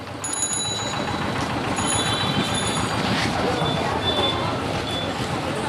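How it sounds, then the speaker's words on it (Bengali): A train rumbles past a railway level-crossing gate at Barrackpore with a steady, loud roar of wheels on track, a high metallic squeal at times and faint voices in the background. "তো আমরা দেখুন সামনে ট্রেন যাচ্ছে"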